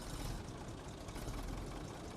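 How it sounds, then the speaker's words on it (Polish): Tractor engine in Farming Simulator 19 rolling slowly forward on an old farmstead, a steady low rumble holding at near-idle revs, close and continuous with no talk. "To jednak tym ciągnikiem podjadę kawałek do przodu, żeby mi tu już nie wadził."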